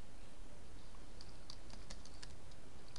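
Quick, irregular keystrokes tap on a computer keyboard while entering data into an MS Access database, the light clicks sitting close and fairly faint over a steady background hiss.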